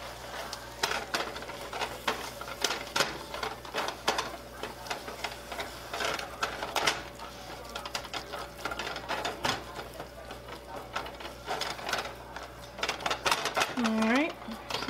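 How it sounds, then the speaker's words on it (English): A whisk stirs a chicken gnocchi soup mixture in a pot, making a steady rapid clicking and scraping against the metal. The sound is fairly close and continues with a voice in the background. "we're going to whisk this because you don't want it to get too clumpy"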